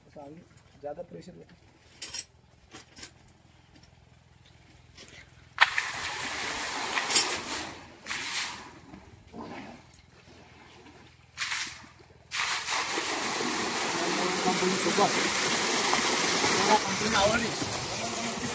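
Water gushing from the 2.25-inch pipe of a 5 HP pump, starting after scattered knocks and bursts and then building into a loud steady rushing flow, with someone talking during the quieter opening part.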